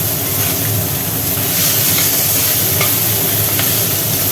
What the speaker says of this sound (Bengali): মোরলা মাছগুলো ভাজা হয়ে গেল